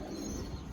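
A Khaten Shakdum chotiyal pigeon gives a brief, soft, low coo, close by and alone over a faint steady background.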